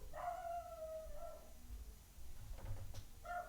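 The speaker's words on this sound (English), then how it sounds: "She's howling." A dog howls in the background, a long wavering cry that rises and holds, then a few softer yips and a brief second howl near the end, heard through room noise.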